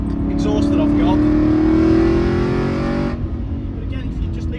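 The 4.3 V8 engine and aftermarket exhaust of a 2007 Aston Martin V8 Vantage drone loudly from inside the car, pitch climbing steadily under acceleration for three seconds before easing off, with someone talking over it.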